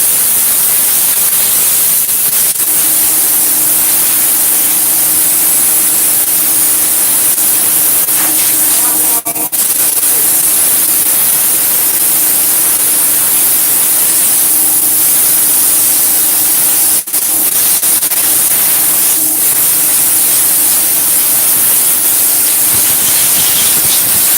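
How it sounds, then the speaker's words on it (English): A small, well-used air compressor in a home workshop runs steadily, giving a loud, constant hiss and drone with a faint tonal hum throughout and a few brief clicks. "This is the compressor that built my house."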